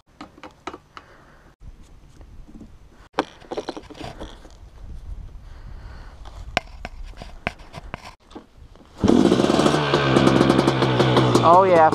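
KTM 250SX two-stroke dirt bike, with scattered clatter and handling noises before the engine catches on a kick start and bursts into loud, close, raspy revving for the last few seconds.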